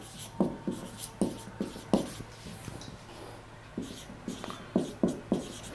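Chalk or marker strokes on a board during a physics lecture on atomic structure, short scratchy bursts in irregular clusters, fairly close, with no talking over them.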